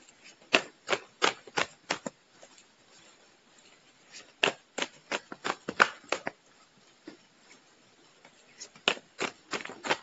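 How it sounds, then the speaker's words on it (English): Cards shuffled and pulled from a deck, a crisp riffling snap repeated in quick rhythmic bursts with pauses between runs, close and moderately loud with no voice. "I'm having a hard time pulling cards for you."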